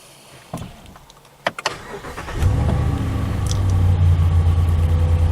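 A Ram pickup's 5.7 Hemi V8 fires up right after an oil change, following a few sharp clicks, then settles into a steady, loud, low idle rumble that holds to the end.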